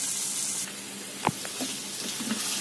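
Chicken frying with dried chillies and curry leaves in oil sizzles steadily up close, broken by a brief scrape of stirring.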